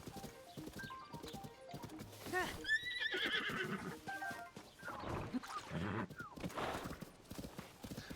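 A horse in Zelda: Tears of the Kingdom whinnies loudly while its hooves clip-clop steadily over open Hyrule Field, with game sounds around it and a voice talking softly now and then.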